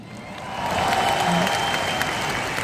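An audience at a talk breaks into applause, a dense wash of clapping that swells within the first half-second and holds steady, heard from within the crowd.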